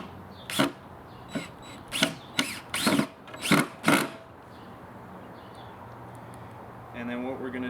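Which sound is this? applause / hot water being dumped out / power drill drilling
power drill drilling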